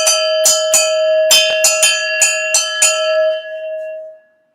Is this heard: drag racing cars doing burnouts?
no